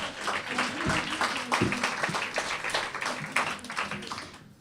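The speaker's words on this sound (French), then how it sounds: "On l'applaudit, mesdames et messieurs" An audience applauding at a poetry event, a burst of clapping from many hands, fairly close and steady, then fading toward the end.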